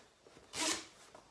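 A front zipper on a Palm Long John style wetsuit is drawn in one quick, close rasping pull, short and fairly quiet against a still room with no talking.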